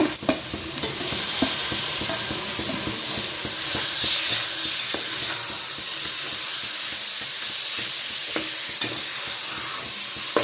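Chopped tomatoes sizzling and being stirred in a hot pan for hotel-style tomato bath, a steady loud frying hiss with occasional spoon scrapes and clinks throughout.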